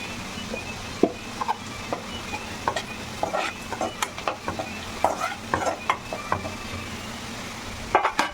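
Onions frying in a pan with turmeric for bagara rice: a soft, constant sizzle under repeated scraping and clinking strokes of a spoon stirring against the pan, close and with no talking.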